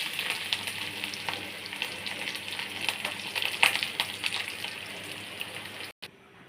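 Curry leaves hit hot oil already holding mustard seeds and onion, giving a close, crackling sizzle with sharp pops throughout and a brief break just before the end.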